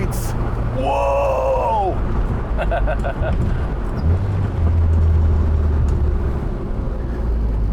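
A Honda-powered classic Mini on 10-inch wheels drones and rumbles as it pulls hard in fourth gear, the engine note rising, while an excited voice exclaims and talks over it.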